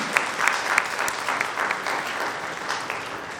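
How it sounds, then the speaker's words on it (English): Graduation ceremony audience breaking into applause for a graduate, a broad wash of clapping from a large crowd, steady and even, fading slightly toward the end. "give a round of applause, please"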